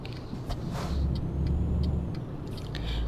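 Truck coupling to a trailer in Euro Truck Simulator 2: a steady low engine rumble with faint clicks and air hiss, close and even throughout, with no voices.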